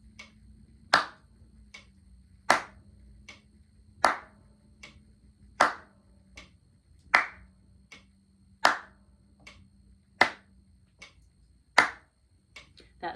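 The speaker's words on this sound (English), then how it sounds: "We're going to leave the metronome going because we're going to clap some of the tricky bits" A metronome ticks steadily with small, crisp clicks, while sharp hand claps land loudly on every third tick in an even, unhurried pulse.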